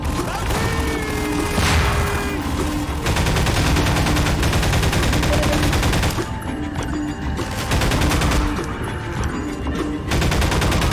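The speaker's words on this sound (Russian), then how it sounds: "он будет пушками стрелять" Gunfire and explosions from the video game Half-Life 2, with dense rapid shooting and heavy blasts sounding loud and continuous throughout, with no clear speech.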